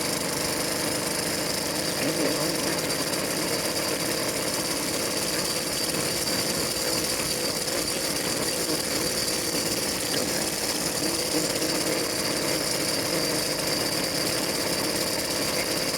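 A choked 100cc bike engine runs steadily up close and struggles to hold an idle, with a dense buzzing drone and rough mechanical chatter throughout and no talking.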